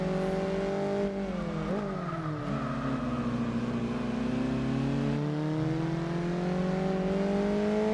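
A Toyota Yaris engine in the Gran Turismo 4 racing game drones loudly and continuously, its pitch dipping during a gear change then climbing steadily as the car accelerates, with no voices.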